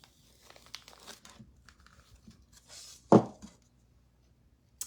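A pasted paper sheet is peeled off a surface, soft crinkling and light tearing with one sharp crackle near the end, close and quiet.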